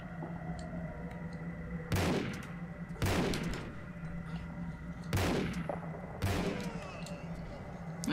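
Guards firing guns in the Tomb Raider level Fading Light 2, four separate loud single shots spaced about a second apart over a steady low background hum.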